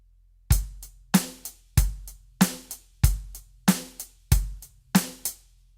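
A steady drum beat repeats about every 0.6 seconds, alternating stronger and softer accented hi-hat hits with bright cymbal wash, played alone and close.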